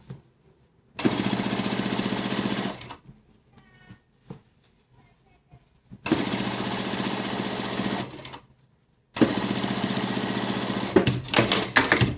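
An industrial sewing machine bastes a trouser pocket facing in three loud, steady bursts of rapid stitching, separated by quiet pauses with faint handling of fabric.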